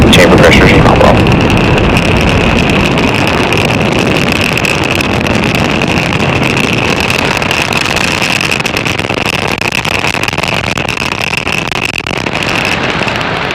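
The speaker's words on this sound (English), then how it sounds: "Falcon 9 has successfully lifted off from Slick 40 at Cape Canaveral Space Force Station in Florida." A SpaceX Falcon 9 climbs away from Cape Canaveral after liftoff with the Thuraya 4 satellite. Its engines give a sustained, crackling, rumbling roar that stays steady and heavy throughout, with a faint thin tone running above it.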